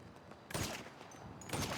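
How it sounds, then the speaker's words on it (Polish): Gunfire in the MisteriX video game, two loud bursts of shots about a second apart, each with a sharp onset and short noisy tail, against a quiet background. "Niektóre strzały zamiast w niego trafiają w siekierę."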